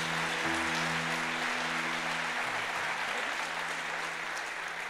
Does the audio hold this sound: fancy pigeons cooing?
no